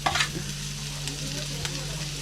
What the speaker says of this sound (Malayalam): ഇനി നമ്മൾ സവാള ചേർക്കാൻ പോവുകയാണ്.